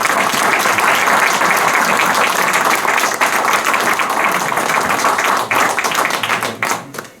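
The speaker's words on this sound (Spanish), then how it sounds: "con un fuerte aplauso por parte de todos por esa labor tan magnífica" A conference audience gives a loud, sustained round of applause for a speaker at an energy talk, dense clapping close by that thins out and tapers off toward the end.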